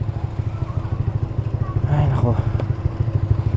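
A Honda Giorno scooter ridden on roadworks roads in Cavinti, Laguna, its engine throbbing in a steady pulsing rhythm up close, with riders talking briefly over it.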